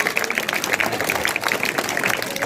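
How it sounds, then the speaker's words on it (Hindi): Sustained applause from an audience at a school annual function, steady dense clapping at moderate loudness throughout with a faint crowd murmur beneath. "आप लगातार तालियां बजाते रहे।"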